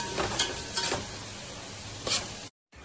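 Onion fries in a pan toward golden brown, with a steady sizzle and occasional scraping stir strokes, then a brief cut to silence near the end.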